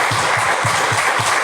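A church congregation claps loudly in a steady rhythmic beat, dense crowd noise washing over the regular pulses.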